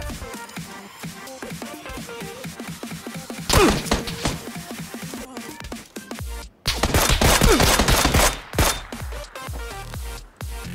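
Gunfire in the battle royale video game PUBG, dense bursts of rapid automatic shots with loud fusillades in the middle and latter half, near and aggressive, no talking over it.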